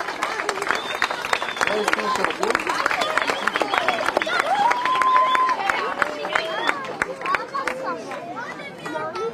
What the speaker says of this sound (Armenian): Ժողովուրդն է տես ձեզ ոնց է ծափահարում։